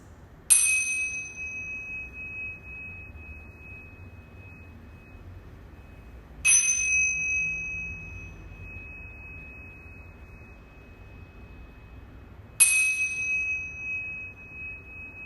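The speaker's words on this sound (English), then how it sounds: "I'm just going to ring this beautiful bell 3 times." Meditation bell rung three times at the close of a vinyasa yoga class, each clear high strike ringing out and fading slowly, evenly spaced about six seconds apart over a quiet room.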